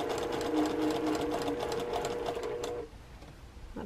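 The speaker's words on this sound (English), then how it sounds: "you know you're sewing this seam here. And I can chain piece them" A sewing machine chain-pieces a quilt block seam, running slowly in a steady buzzing whir at close range for almost three seconds before cutting off into quiet room tone.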